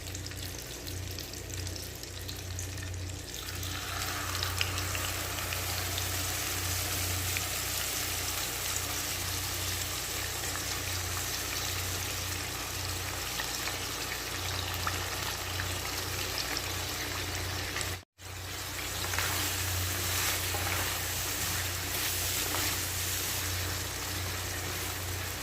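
Chicken liver for guisado frying in a pan, a continuous bright sizzle and crackle that holds steady for the whole stretch, close and fairly quiet, with one brief dropout near the end and no talking.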